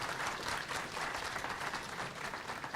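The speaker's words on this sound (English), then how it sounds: "I want to give a big shout out and a big round of applause to Nancy as she's making her way over here." Conference audience breaks into sustained applause, dense clapping from many hands continuing steadily without letting up.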